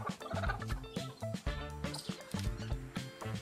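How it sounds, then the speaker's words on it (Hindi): Hen clucking in a backyard coop, short repeated clucks up close with rustling and other fowl noises around, no talk. "अच्छी है मुर्गी, ये भी बाहर निकल आई"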